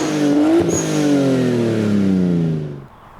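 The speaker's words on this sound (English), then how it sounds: "this is my 2001 Nissan Skyline R34 GTT" A stock 2001 Nissan Skyline R34 GT-T engine revs up loud and close, its tone sliding gradually downward as the revs fall away, then cutting out abruptly near the end.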